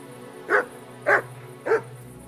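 The dog Mutt barks three times in Kingdom Come Deliverance 2, evenly spaced sharp barks about half a second apart, close and clear over a low ambient hum.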